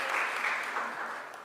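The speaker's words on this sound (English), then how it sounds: "Give them a round of applause." Audience applause at a Philadelphia city event where the mayor announces summer programs for youth and teens, a steady, even wash of clapping from a moderately distant crowd that stays at a constant level for the whole stretch, with no talk over it.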